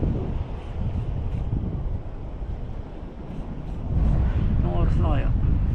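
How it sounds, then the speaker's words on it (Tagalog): Strong wind at a Philippine shore fishing spot buffets the microphone in continuous low rumbling gusts, louder toward the end, with a voice faintly audible beneath. "Pasalubong na yung hangin"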